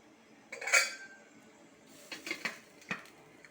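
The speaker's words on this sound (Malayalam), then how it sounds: "മൂടിയെടുത്ത് അടച്ചും കൊടുക്കാം വേവട്ട" A metal lid clinks onto a cooking pot, followed by a few lighter clanks and taps of cookware.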